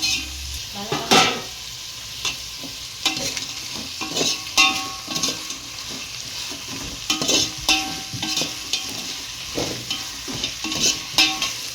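Sliced onions fry in a pan for white chicken biryani while being stirred, a steady sizzle with rhythmic spoon scrapes and clatters, close and clear, with no talking.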